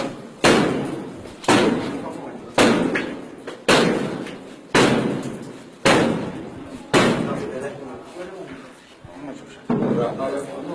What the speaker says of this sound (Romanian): închideți ușa, vă rugăm.